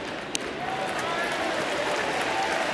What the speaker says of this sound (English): And a mock cheer goes up.